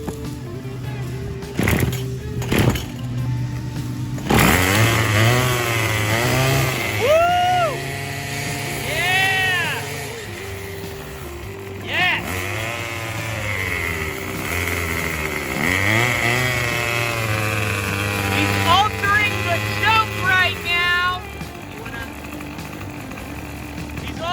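A repaired Craftsman 27cc speed-start weed trimmer is pulled a few times, then its small two-stroke engine catches and runs loud and close, revving up and down repeatedly while people talk nearby.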